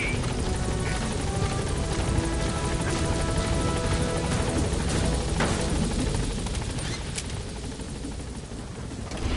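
A video game helicopter climbs steadily, its loud, continuous rotor and engine drone filling the whole stretch alone and easing slightly toward the end.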